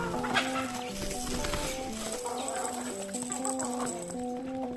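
Several chickens cluck and murmur nearby in a rhythmic, overlapping chatter that stays fairly quiet and steady throughout, with no talking.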